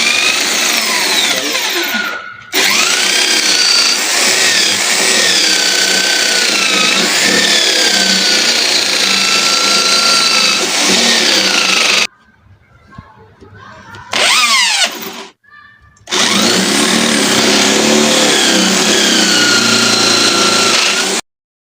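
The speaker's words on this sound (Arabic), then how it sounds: "هنبدأ نخرم بالشنيور" An electric drill bores holes while building a decorative shelf, a loud, steady whining drone that runs for long stretches, cuts out briefly a few times, then resumes. Someone talks at points.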